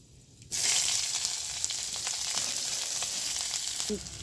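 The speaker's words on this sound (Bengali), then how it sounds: "এবার আমি দিয়ে দিচ্ছি পেঁয়াজ কুচানা" Chopped onions hit hot oil already tempered with dried red chillies and black cumin, bursting into a loud, steady sizzle after a quiet start and frying on continuously with small stirring clicks.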